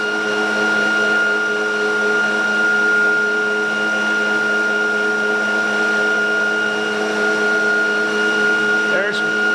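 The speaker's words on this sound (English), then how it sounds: "And now I'm going to engage the ReGenX coils." ReGenX e-bike hub motor spinning at about 3,500 RPM with its coils engaged, a loud, constant electric whine with steady tonal hum throughout, and a brief faint sweep near the end.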